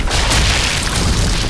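A loud sniper rifle shot from the video game Sniper Elite 4 booms at the start and leaves a dense, roaring tail that fills the whole moment.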